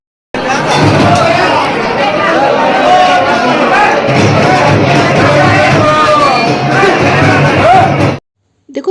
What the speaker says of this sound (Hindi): सो इधर ये देखो भीड़ कितना है गाइस